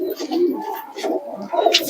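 Pigeons kept by a pigeon fancier coo softly in short repeated bursts, fairly close, with a few brief chirps mixed in and no talking.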